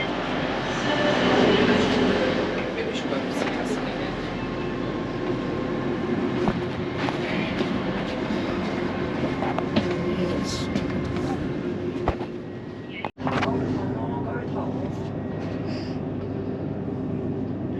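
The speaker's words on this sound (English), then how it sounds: "the other end is a GWR leased Great Northern train" A GWR-leased Great Northern train stands at Welwyn Garden City on the East Coast Main Line, giving a loud, steady electric hum and rumble from close by. A sharp clunk sounds near the end, and someone talks over it.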